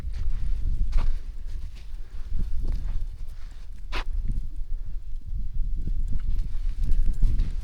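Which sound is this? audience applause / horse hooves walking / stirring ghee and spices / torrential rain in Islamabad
horse hooves walking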